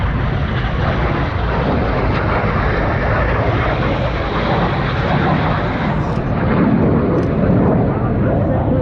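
Red Arrows jets at a coastal airshow in Ayr, Scotland, a loud, sustained, rumbling jet roar that holds steady throughout the clip, with no voices.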